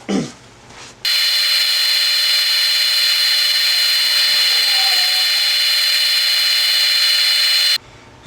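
Power sanding inside a pignut hickory bowl with 240-grit paper, a loud steady whirring hum that starts abruptly, holds for about seven seconds and then stops, with a short burst of handling noise before it.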